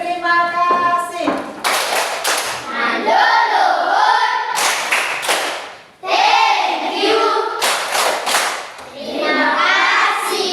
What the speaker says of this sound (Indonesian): mari kita tepuk terima kasih untuk kita semua